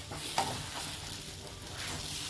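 A ladle stirs bubbling rava pongal in a pan without pause, giving a continuous close mix of soft sizzling, thick bubbling and gentle scraping.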